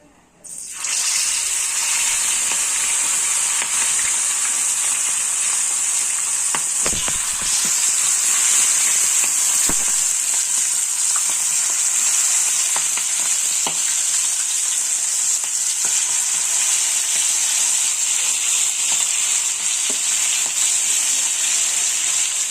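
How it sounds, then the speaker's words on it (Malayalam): Marinated chicken legs fry in oil over a slow flame, giving a steady, loud sizzle that runs throughout, with occasional soft crackles and clinks as the pieces are turned. "നല്ലതുപോലെ എണ്ണയിലിട്ട് മുരിച്ച് തിരിച്ചും മറിച്ചും ഒക്കെ എടുത്ത് സ്ലോ ഫയറിൽ ഇടണം"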